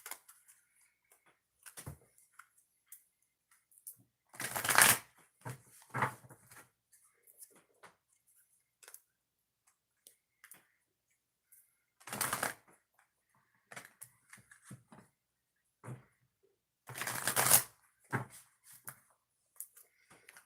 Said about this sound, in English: I got to shuffle, and then we'll get started, okay?